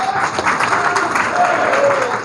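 A crowd at a political gathering gives loud, dense applause that continues throughout, with voices mixed in beneath the clapping.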